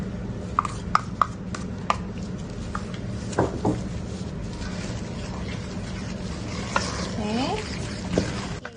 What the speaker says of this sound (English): and then I'm gonna mix 2 eggs inside. Just mix all together.